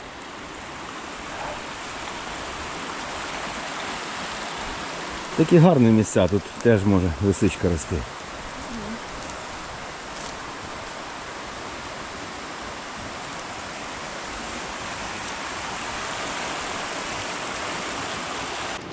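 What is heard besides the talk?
river stream flowing in Carpathian forest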